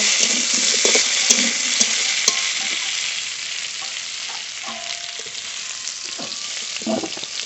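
A steady, loud sizzle of fish frying in hot oil in a pan, a constant hiss with a few faint clinks and stirring sounds and no talking.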